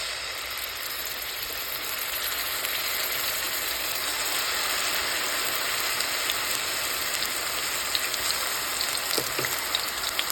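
Spices frying in mustard oil with onion, garlic and green chilli paste in a pan, giving a steady, dense sizzle that holds evenly throughout, close and continuous with no speech.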